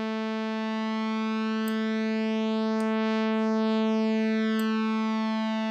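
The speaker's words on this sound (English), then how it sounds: "So right now we're getting a kind of phasing effect." Layered sawtooth synth waves in Pigments, filter cutoff pulled down, sustain as a steady, loud buzzing drone with a slow, sweeping phasing shimmer, plus a few faint clicks, and no voice over it.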